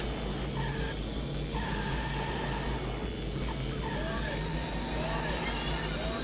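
In the Lost Judgment video game, a car brakes hard and skids, its tires squealing in repeated sustained screeches over a constant engine and road roar, loud and close.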